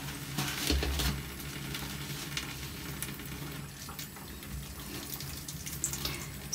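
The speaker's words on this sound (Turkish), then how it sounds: "Güzelce durla. Hiç köpük kalmasın." Tap water runs steadily while dishes are rinsed in a children's kitchen-cleaning play scene, a continuous close hiss with faint clinks and splashes and no talk.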